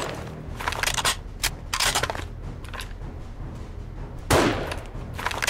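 Bursts of gunfire in the survival video game 7 Days to Die, several sharp shots in quick clusters with a heavier blast near the end over a low rumbling game background.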